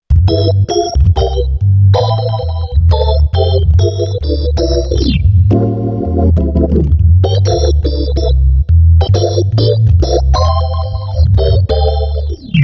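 A Hammond organ plays a fast, busy run of stabbing chords and quick glissandi in a classic squabble style, loud and up close, with no voices.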